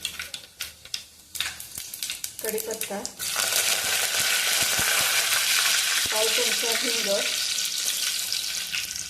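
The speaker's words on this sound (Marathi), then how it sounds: "चांगली तेलात तडतडले." Mustard seeds, fenugreek, cumin and curry leaves splutter in hot oil for a sambar tempering. A few utensil taps and a woman's speech come first, then a loud, continuous sizzle and crackle takes over and holds steadily to the end.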